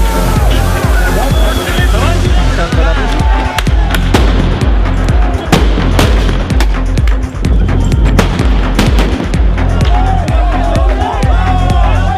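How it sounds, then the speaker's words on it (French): A loud street protest: booming tear gas grenade launches and sharp flashball shots crack repeatedly over a dense crowd roar, with voices shouting throughout. "la valse des grenades lacrymogènes et tirs de flashball"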